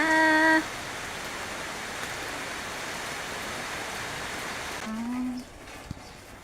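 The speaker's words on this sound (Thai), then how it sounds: "เสียงน้ ำฝนก็ตกแรงอยู่เหมือนกันนะคะ" Heavy rain pours down steadily outside a window, a dense even hiss that runs for several seconds before fading, with a brief tone at the start.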